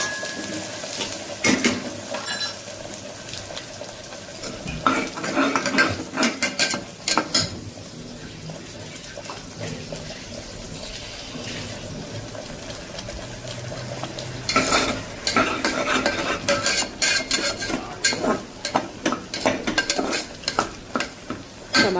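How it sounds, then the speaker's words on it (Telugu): A spoon stirs mutton paya curry in a pot, scraping and clattering against the metal in repeated close bursts, with a soft sizzle running underneath the whole time. "బాగా కలుపుకోవాలి అడుగంటకుండా కలుపుతూ ఉంటే మంచిగా ఉంటుంది"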